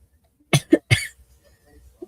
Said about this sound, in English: Try not to cough or sniffle into my mic often.